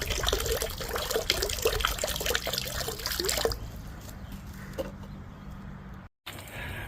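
Water runs from a hose into an RV's fresh water tank during de-winterizing, a close, steady trickling and splashing that drops to a quieter, thinner flow partway through, with a very brief gap near the end.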